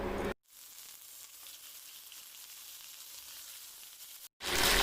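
Fish pieces sizzle in about a tablespoon of oil in a non-stick pan, a steady, moderate hiss framed by abrupt cuts at the start and end.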